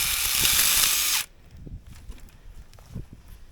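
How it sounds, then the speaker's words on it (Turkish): A power tool cuts firewood outdoors in loud, high, whining bursts for about a second, then stops abruptly. Quieter scattered handling knocks follow. "Odun kesiyorum."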